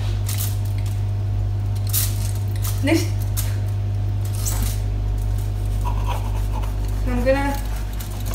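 A sharp steak knife cuts through keto cracker dough, trimming the top and edges into a square, giving a few soft scraping strokes over a steady low kitchen hum, with a brief spoken remark.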